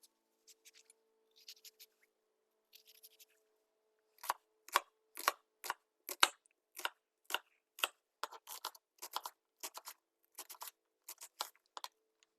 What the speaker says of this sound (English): you can slice it sideways first and then slice it across and then slice it across